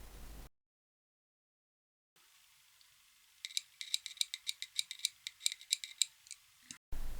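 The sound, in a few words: passive buzzer ticking when powered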